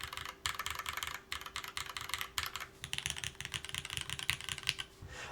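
Steady typing on a custom-built mechanical keyboard from a Bias DE build, with dense rapid keystrokes in quick bursts separated by brief pauses, close and fairly quiet, with no voices.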